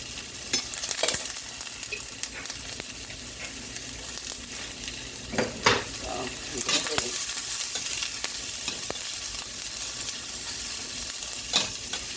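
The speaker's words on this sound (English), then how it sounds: "Saute that up" Onions and hamburger steak fry in a pan with a continuous close sizzle. Scraping stir strokes and spatula knocks come at irregular intervals, and no voices are heard.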